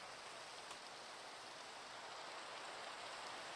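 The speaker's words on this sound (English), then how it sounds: "Couldn't even hear what you were saying about weather conditions over the rain." Rain pours steadily in the video game Minecraft with the Create Aeronautics mod, a soft even hiss of falling drops with no pauses, faint and continuous throughout.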